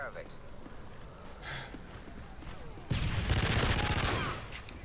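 Hip-fired light machine gun in Modern Warfare 3 lets off a loud, rapid burst of automatic gunfire over roughly a second and a half, following a quieter stretch of game ambience.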